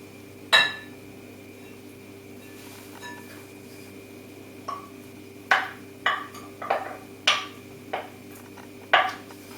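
Buttermilk being stirred into flour and bicarbonate of soda for Irish soda bread dough: sparse, close clinks of a utensil against a bowl, irregular and grouped toward the end, over a steady low background hum.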